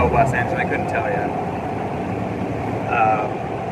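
Engine and transmission of an MBTA high-capacity shuttle bus drone steadily from inside, with a faint rising whine over the continuous hum while people talk nearby.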